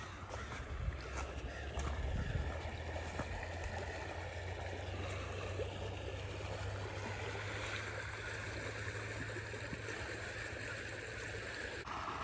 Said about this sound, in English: the creek is full.